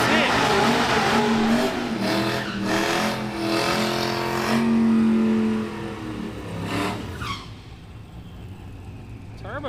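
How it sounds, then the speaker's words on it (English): A turbocharged Silverado and other cars street racing roar loudly, engines revving and surging with some tire squeal, then the noise fades as they pull away, while commentary talk runs over it. "Turbocharged Silverado coming up here in the left lane"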